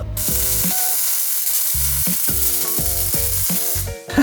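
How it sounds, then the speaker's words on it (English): A bar is welded onto titanium plate with a loud, harsh crackling buzz that comes in repeated short bursts broken by brief pauses, with no talking. "we're gonna weld this bar like down here"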